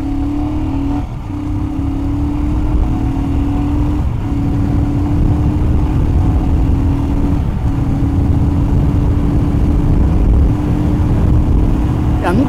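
A motorcycle runs at full throttle on a highway, its loud, constant engine drone holding a slowly rising tone under heavy wind rush.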